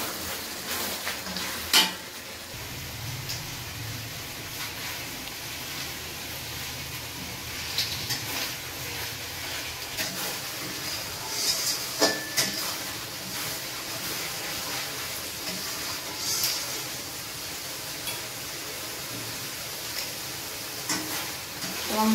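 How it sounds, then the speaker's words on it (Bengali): Spice masala being fried and stirred in oil for doi katla, giving a loud constant hissing sizzle close by, with occasional sharp clinks of a spoon on the pan and no one speaking. "আমার মশলা কষানো হয়ে গেছে।"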